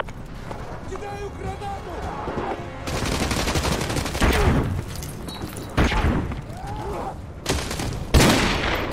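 Gunfire bursts from the video game Call of Duty: Modern Warfare 2 Remastered, loud and dense in several sharp volleys with rolling booms, heard under someone talking throughout.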